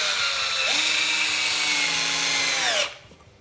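A power drill drives screws into a wooden sawhorse, a loud, close motor whine that climbs in pitch as it spins up, holds steady, then winds down and stops near the end.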